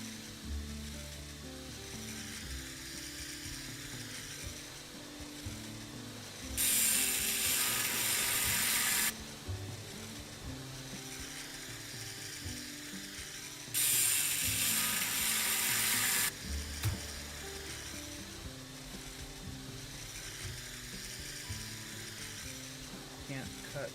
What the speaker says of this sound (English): we can use the angle grinder now